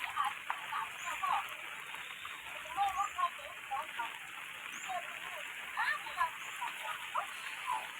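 Heavy rain keeps falling as floodwater rises toward a house, a steady close hiss of downpour with scattered small chirps and splashes throughout.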